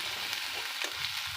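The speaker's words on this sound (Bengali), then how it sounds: "পেঁয়াজটা খুব সুন্দর করে ভাজবো" Chopped onion and garlic fry together in a pan, giving a dense, loud, continuous sizzle with faint stirring, close to the source.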